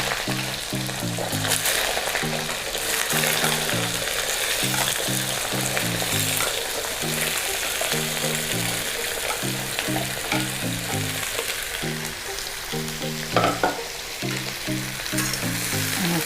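Sliced potatoes and green coriander frying in hot oil with cumin, a steady loud sizzle with stirring scrapes throughout, close up and without talk.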